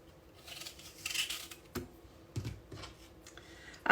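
A knife working the core out of a hard Pink Arkansas Granny apple, with a few scraping, crunchy cuts and clicks of the blade, close and fairly quiet, ending in a sharper knock.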